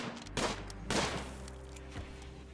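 A colonist in Rimworld shoots a fox: two or three faint, muffled shots pop over a steady low background hum, spaced roughly half a second apart.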